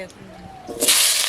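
Pieces of elephant foot yam hit hot oil in a home kitchen for a chicken curry, bursting into a loud, bright sizzling hiss that swells in the second half, right after a short spoken phrase.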